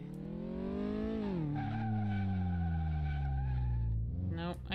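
Car braking hard and skidding in a video game, a sustained loud tire screech with a droning engine tone that bends downward, holding steady for several seconds before a brief dip and rise at the end.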